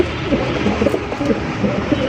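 Pigeon cooing in a rural Bengal setting, a steady low warbling that runs on and on without a break for the whole stretch, fairly close and full against a busy background of other sound.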